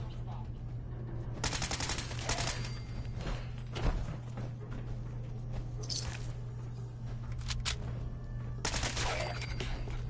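Bursts of gunfire in Fallout 4 during a Brotherhood mission, several rapid automatic volleys separated by short pauses over a steady low hum.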